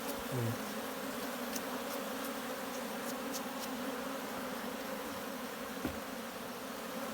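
Honeybees buzz steadily around a natural log hive kept in its wild state, a continuous close, even hum with faint scattered higher ticks, no voices.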